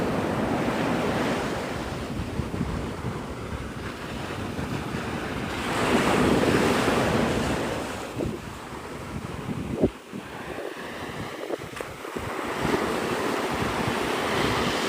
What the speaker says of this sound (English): This is an ocean.